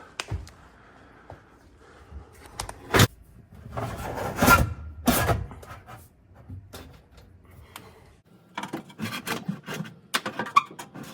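Flat screwdriver prying up a part on a Wolf range hood, giving scattered scraping and rubbing contacts with a few sharp clicks and taps, close and fairly quiet, with no talking.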